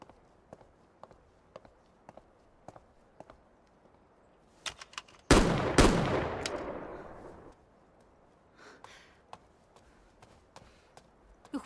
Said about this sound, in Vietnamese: Đang ở trong nhà nổ súng gì vậy?